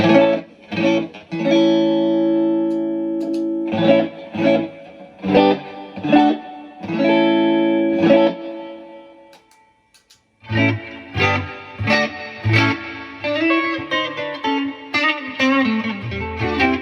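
Electric guitar through an Egnater amp on the clean channel, playing chords and picked notes with a clean, effected tone, a brief pause midway, then a busier passage.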